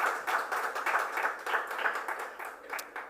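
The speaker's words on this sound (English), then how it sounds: "Can we have a round of applause once again for our participants" Applause for the participants at a Jamaica 60 diaspora conference, a moderate spread of claps from a modest audience, steady and fairly close throughout with no talking.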